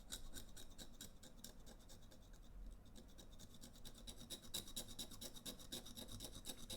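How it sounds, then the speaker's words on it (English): A tool scrapes the shorted RAM area on an iPhone 7 Plus logic board, giving a faint, rapid rasping of repeated short strokes, close and steady with no voices. "You don't need to scrape away in the middle"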